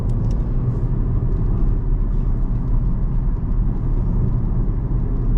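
A 2008 Volkswagen Jetta Comfortline heard from inside while driving through a bend without lifting off the throttle, a steady, loud low road and engine rumble with constant tyre hum and no talk.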